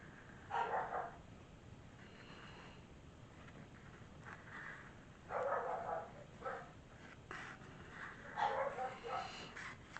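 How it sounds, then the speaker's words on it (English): A dog barks indoors during a craft session making a junk journal from envelopes, giving several separate bursts of barking and yips at moderate distance, fairly faint against a quiet room. "Sorry, my dog is barking."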